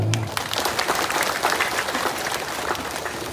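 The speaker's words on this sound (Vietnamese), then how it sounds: "một tràng pháo tay" Sustained applause from a church congregation at a Trinity Sunday Mass, steady dense clapping filling the space from start to finish, with a brief voice at the very beginning.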